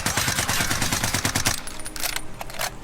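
An assault rifle with an underbarrel attachment in Call of Duty Warzone fires a fast, even automatic burst for about a second and a half, then several sparser shots and trailing echo.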